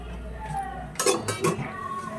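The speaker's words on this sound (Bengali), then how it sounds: "এবার আমি এখন এটাকে ভালো করে ঢেকে দেব" A lid goes onto a pan of cooking green cauliflower, landing with two quick metallic clinks and clatters close by after a stretch of quiet kitchen background.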